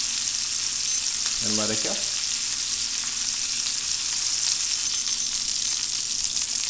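A rack of lamb sears in a hot pan, giving a steady, bright sizzle that fills the scene throughout, briefly joined by a few spoken words early on.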